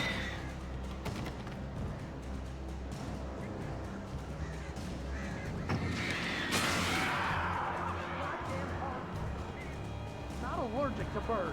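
Crows caw in the video game Alan Wake, several harsh calls rising out of a dense game soundscape while a person talks over it, with a sharp burst of noise midway.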